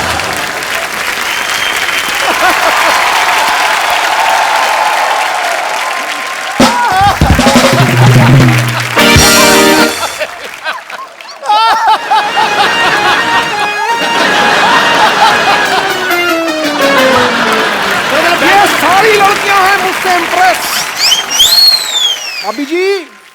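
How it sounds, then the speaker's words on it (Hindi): A studio audience on the Kapil Sharma comedy show bursts into loud, sustained applause, dense clapping lasting many seconds with cheers and crowd noise layered through it, briefly broken by a musical sting before clapping resumes. "ठोको ताली"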